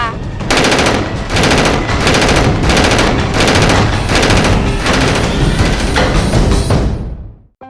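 Automatic gunfire in a motion comic fires in rapid, evenly spaced bursts about every half second, loud and close, continuing for several seconds before cutting off abruptly.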